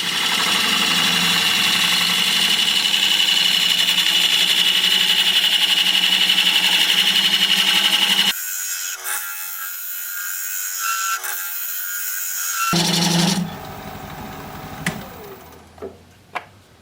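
Hard oak spinning on a wood lathe under a gouge, a steady scraping cut with motor hum for several seconds, then the cutting breaks off into quieter, patchy tool noise and a few knocks.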